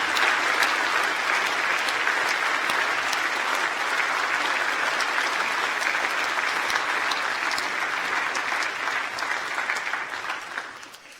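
Graduation audience in a hall applauding university staff, a dense sustained clapping from a large crowd that carries steadily and then fades out at the end.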